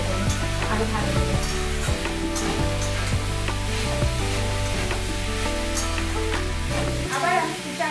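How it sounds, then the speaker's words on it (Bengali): Chana and mung dal fried and stirred with vegetables for khichdi sizzle loudly and continuously in a pan, with repeated scraping stirs of the spoon through the whole stretch. "ডালগুলো ভাজা হয়ে যাবে, সবজিগুলো ভাজা হয়ে যাবে, আরো ভালো করে।"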